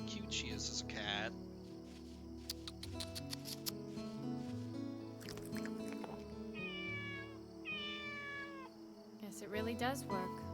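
A cat in a video game meows in several high, drawn-out calls between stretches of game music and effects, with a voice talking over parts of it.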